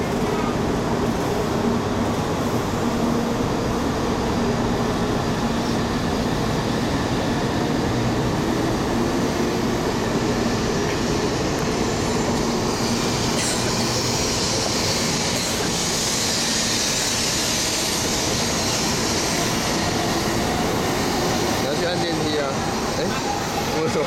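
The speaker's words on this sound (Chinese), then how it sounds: "高铁说拜拜了。" A Chinese high-speed train pulls away, making a continuous loud rumble of wheels and rail noise with a rising airy hiss that lasts throughout.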